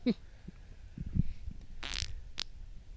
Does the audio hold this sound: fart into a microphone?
yes